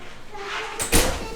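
A resort room door at Old Key West Resort, Walt Disney World, is pushed open with a brief rattle and thump, close by, with faint room noise around it.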